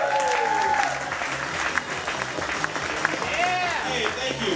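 Audience applause greeting a stand-up comedian at a comedy show, steady dense clapping from a crowd with a host's voice carrying over it.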